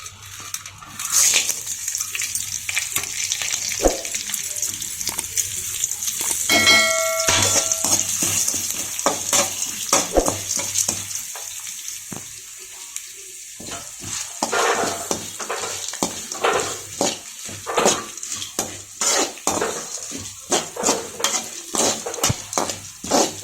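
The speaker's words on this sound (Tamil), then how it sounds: "இப்போ வறுவலுக்கு ஃபஸ்ட்டு சீரகம், சோம்பு, பட்டை, இலை, மிளகு இது எல்லாத்தையும் நம்ம சேர்த்து வறுத்து எடுத்துக்க போகிறோம்." Cumin, fennel, cinnamon, bay leaf and pepper roasting in a pan for a country chicken fry, a continuous sizzle with frequent clinks and scrapes of a spoon stirring against the metal pan, close and fairly loud.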